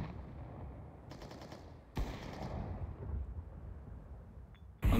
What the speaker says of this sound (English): Shoot me through the smoke.